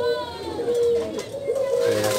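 A sick pigeon gives soft, wavering coos, repeated several times, close by and fairly faint, with light background noise.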